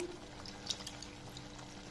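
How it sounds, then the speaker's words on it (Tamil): Soaked tamarind water poured into rice for kadamba sadam, a Navratri prasadam dish, giving a faint, steady liquid trickle with light splashes over a low background hum. "இப்போ இதில் புளி ஊற வச்சு வச்சுருக்கேங்க, அதை ஊற்ற போகிறேன்"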